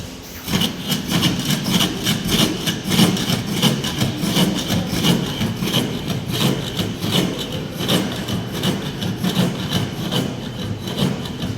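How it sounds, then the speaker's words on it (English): A jack plane smoothing a wooden workpiece clamped for carpentry, giving steady, continuous rasping strokes that run close and fairly loud throughout with no talk. "First we need to fix it in the jack and we should smoothen it using jack."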